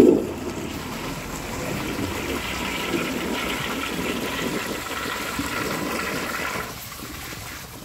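A 1953 Crane Santon toilet flushes in one strong gush of rushing, swirling water that starts loud, holds steady as the bowl drains and refills, then eases off near the end, with no talk over it.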